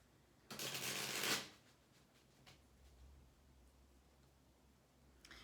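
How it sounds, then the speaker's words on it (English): A deck of tarot cards is shuffled once in a quick, close riffle lasting under a second, followed by faint ticks and soft rustling in a quiet room. "I dropped one of the cards. I got to do one more shuffle."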